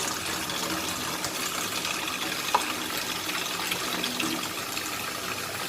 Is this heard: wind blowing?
no